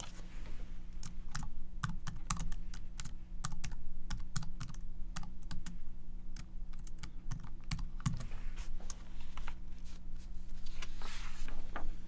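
Steady typing on a computer keyboard, with quick clustered keystrokes and short pauses repeating throughout, close and clear with no voices.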